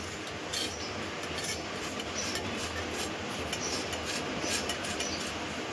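A knife tip scrapes around the edges of semolina dhokla in a metal tin, giving a steady, close rasping scrape with faint metallic ticks and no talk.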